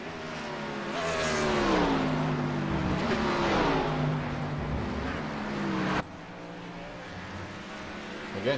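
A race car engine in a sim racing broadcast from the Watkins Glen road course revs loudly, pitch climbing and falling through gear shifts, then cuts sharply near the end before resuming at a lower level.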